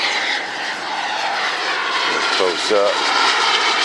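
Loud, steady roar of a jet aircraft passing low over the runway at a 2011 Mississippi jet meet airshow, filling the whole clip, with someone talking briefly over it.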